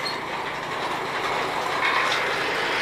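A Hokuriku rail lorry on a sugar plantation line rumbles steadily along the track close by, a constant wash of wheel and rail noise with no break in it.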